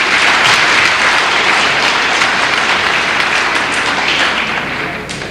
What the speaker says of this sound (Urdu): آئیے شعراء، سامعین اور کارکنان کی اس 20 سالہ کامیاب محنت کو ڈھیر ساری تالیوں سے خراج تحسین پیش کریں.